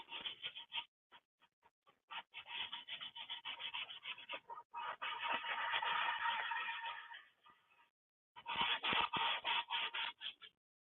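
Hand sanding of wood with a sanding block, a steady rasping rub in bursts of strokes, some short and choppy, one long sustained pass, a pause, then brisk rapid strokes, close and fairly loud with no talking.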